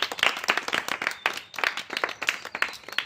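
A group of people clapping in uneven, choppy bursts, close and fairly loud, with brief pauses between flurries.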